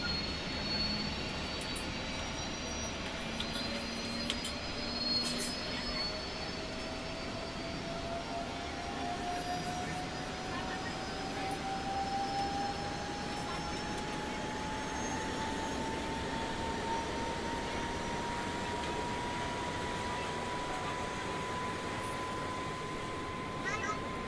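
Auxiliary power unit in the tail of a Boeing 737 Max 8 spooling up, a steady whining drone with a tone slowly climbing in pitch over a broad, constant roar heard from nearby.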